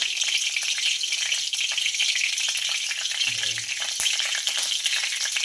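Mustard seeds, added after curry leaves, sizzle and crackle steadily in hot oil in a kadhai while a dal-rice dish is cooked, with a brief stir partway through and no talk.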